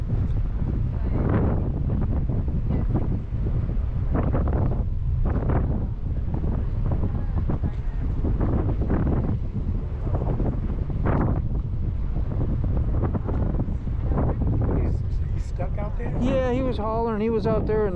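Wind gusts buffet the microphone out over the Chesapeake Bay at Fort Monroe, a steady rumbling roar near the boat with people talking under it throughout.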